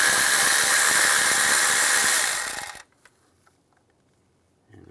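An 11mm socket on a power tool takes intake manifold nuts off a 2004–2010 BMW X3, giving a loud, steady whirring burst that stops abruptly partway through, followed by near silence and small clicks.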